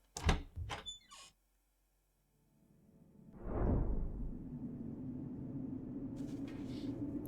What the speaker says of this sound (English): we're gonna exit this door